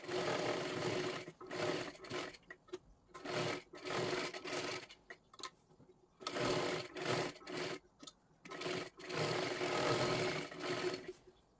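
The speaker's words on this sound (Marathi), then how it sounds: "एक डबल शिलाई इथे कडेला, जेणेकरून हे लेस सुद्धा आपले पॅक बसून जाईल" Bursts of stitching from a sewing machine run a double seam along the lace edge of a blouse, starting and stopping in short and longer runs, close and fairly loud, with no talk.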